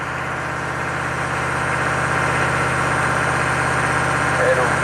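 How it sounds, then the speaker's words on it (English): Chevy 6.5 turbo diesel engine running steadily with a dense, continuous rumble, loud and close, with only a slight rise in level toward the end rather than sharp revs. "Now let's rev it."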